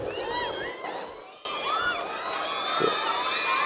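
A large audience at a public speech cheers, whoops and whistles, loud and continuous, with a brief dip before the noise surges back and builds.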